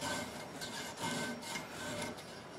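Rough rasping strokes of a hand saw cutting through material, with a steady back-and-forth rhythm, close by and fairly quiet.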